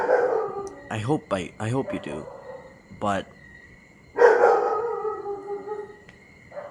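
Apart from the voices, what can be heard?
dog barking and howling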